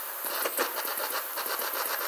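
Jet torch lighter flame burns steadily to melt gold foil recovered from electronic components, producing a close, loud, continuous hissing roar with a faint rough flutter.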